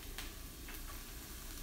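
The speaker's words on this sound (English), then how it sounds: "I better talk louder because that sizzle is gonna be loud." Onions and peppers sizzle in a hot pan for pineapple fried rice, a steady, even hiss of frying that stays soft and continuous throughout, with no voices.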